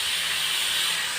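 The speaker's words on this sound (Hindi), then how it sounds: "कितनी तेज आवाज़ आ जाती है टमाटर डालो सोई।" Tomatoes hit hot tempering oil already holding cumin, asafoetida and curry leaves, giving a loud, continuous close-up sizzle and hiss that stays steady throughout, with no talking.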